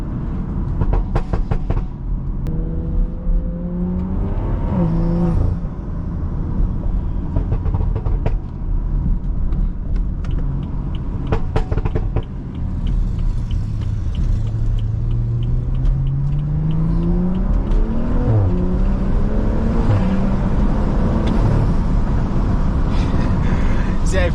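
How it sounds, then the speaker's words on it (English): A BMW car engine, Stage 2+ tuned, hums and revs with rising and falling pitch while driving in city traffic, steady and fairly loud, under constant road and wind noise. "hopefully it's closer to the actual real sound of the car"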